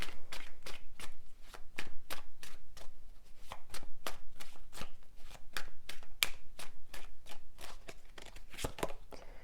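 Tarot deck shuffled by hand in steady, rapid riffles, a long run of crisp close card snaps with no talking.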